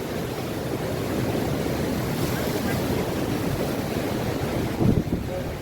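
Sea waves wash onto the shore in a continuous broad roar, mixed with gusting wind noise across the microphone and a brief louder surge near the end.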